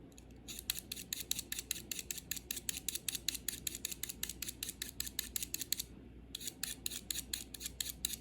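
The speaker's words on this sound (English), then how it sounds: "Scrape some pastel. Again, this one is yellow ochre." Yellow ochre pastel scraped with a blade in quick, rapid strokes, close and crisp with a short pause before the scraping resumes.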